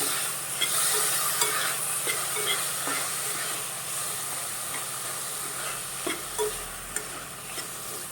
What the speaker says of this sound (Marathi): आपण आता हे मध्यम गॅसवरती आपण परतून घेऊया